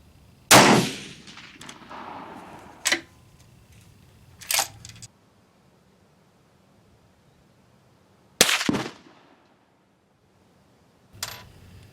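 A Steyr rifle firing GP11 reloads sounds off in sharp, close reports at an outdoor range, with a few clicks of handling between the loud cracks and quiet gaps around them.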